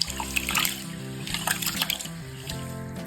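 Water sloshes and trickles as raw rice is stirred and rinsed by hand for athirasam, wet swishing sounds coming in short bursts against a steady background hum.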